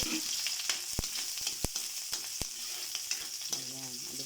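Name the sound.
eggs frying in a pan for egg adobo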